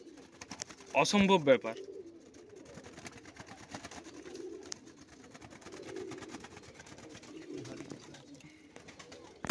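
Pigeons cooing softly in a small crowded loft, low murmuring coos throughout, with a sharp brief flutter or call near the start and someone speaking briefly over them.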